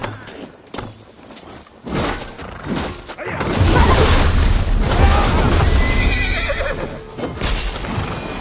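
Horses whinnying and neighing amid a loud battle in the video game Assassin's Creed Valhalla, hooves clattering and crashes mixed into a dense, swelling roar after some quieter opening sounds.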